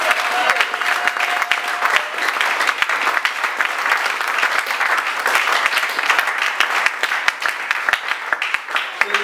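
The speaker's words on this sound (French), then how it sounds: "Est-ce qu'on peut acclamer le Seigneur pour ça?" A church congregation applauds and cheers in praise of the Lord, steady dense clapping from many hands filling the room, loud and sustained throughout with scattered voices mixed in.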